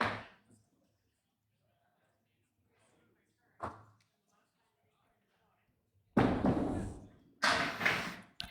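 Candlepin bowling playoff spare shot: a lone thud of the ball, then after a pause two loud bursts of pins crashing and scattering, close and sharp, with no voices over it.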